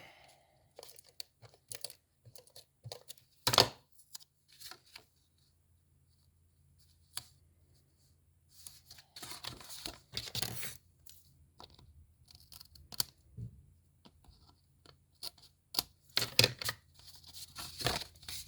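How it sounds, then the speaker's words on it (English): Cardstock is trimmed while making a stamped fence card, giving a series of crisp, close cutting and slicing scrapes in short bursts with quiet pauses between them. "And then we will trim this one off."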